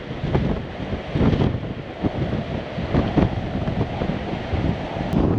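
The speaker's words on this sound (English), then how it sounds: "It's definitely blowing a hoolie today, but most of my walking route is coastal" Strong, gusting wind buffets the microphone on a coastal walk near the England border, a loud continuous roar with surging gusts and no talking.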